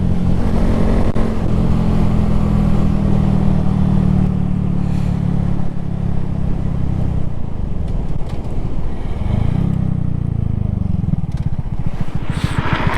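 A red Honda Grom motorcycle rides along with a steady, loud engine drone mixed with wind rush, the pitch briefly rising and falling midway as the throttle changes, with no talking.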